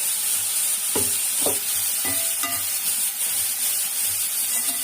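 Ginger-garlic paste sautéing for a crab gravy, sizzling steadily in a hot pan, with a few sharp scrapes of a spatula stirring near the start.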